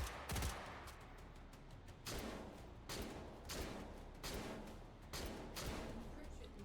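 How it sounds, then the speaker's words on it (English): Full-auto gunfire in a competitive shooter video game match comes as a string of evenly spaced, rapid bursts, each a dense rattling volley. The shots sit at moderate distance under ongoing commentator talk. "Now, do you think that that's full auto fire?"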